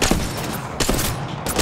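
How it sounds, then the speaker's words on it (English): Gunfire in the battle royale game Apex Legends, three loud bursts of rapid shots spaced across a short stretch, up close and dominating with no talking over them. "I was shooting somebody else."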